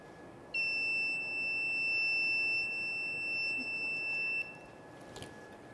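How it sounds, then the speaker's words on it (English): A buzzer in a farm intrusion alarm demonstration, built to warn of wild animals, sounds one steady, unbroken high tone for about four seconds. It is moderately quiet and stands alone over a faint background hiss. "the buzzer to produce beep song and RGB lights starts flashing"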